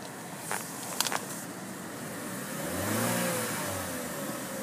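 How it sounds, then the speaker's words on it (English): A 2014 Buick Encore with 15,000 miles has its engine revved once, a moderate rise and fall in pitch over a couple of seconds after a few light clicks, heard faintly against quiet background noise. "I'll go ahead and rev this engine up for you so you can hear how tight it is"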